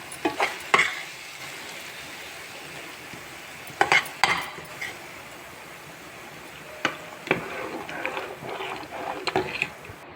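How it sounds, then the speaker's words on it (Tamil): A spoon stirs and scrapes a tempering of spices sautéing in a pan for dal tadka, with a soft steady sizzle under scattered sharp clinks of metal against the pan. "நல்லா வதக்குங்க."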